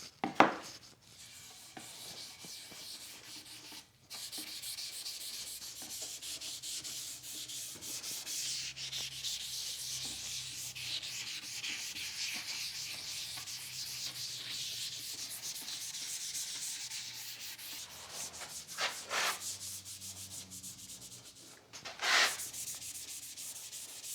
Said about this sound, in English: So I'm gonna do a final sand on this